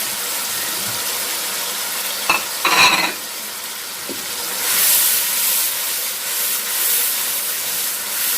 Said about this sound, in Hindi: अच्छी तरह भून लेंगे।